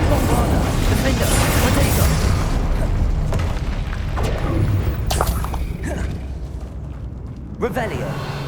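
Spell explosions crackle and boom through a Hogwarts Legacy fight, a dense, loud continuous roar with several sharp bursts and whooshes stacked over it while voices shout spell names.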